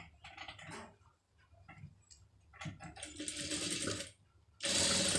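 Sewing machine stitching invisible piping, with bursts of mechanical whirring broken by short pauses and a louder run at the end.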